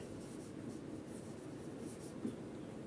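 A pen scratches out a math answer on paper, a soft, continuous scribbling rasp with small strokes and one slightly stronger tap near the end, close and quiet, no talking.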